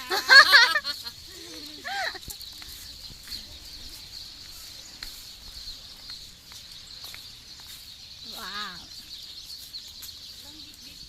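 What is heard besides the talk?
many birds calling in a park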